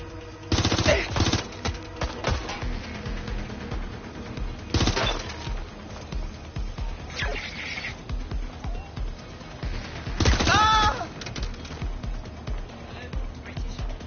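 Bursts of gunfire in the video game Watch Dogs Legion, several sharp volleys spread across the span, with a strong burst near the start, another in the middle and a loud one late, over steady game ambience and voices.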